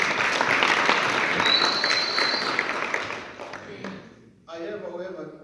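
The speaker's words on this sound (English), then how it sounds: "So you can give yourselves a round of applause." Audience applause at a guest speaker's talk, a dense wash of clapping that gradually thins and fades, followed by a voice speaking once it dies down.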